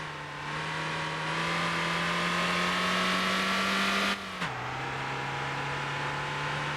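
A car engine in the Motor Town racing game holds a steady high drone at speed, then drops sharply as the driver lifts off and changes gear, carrying on lower and even with no talk over it.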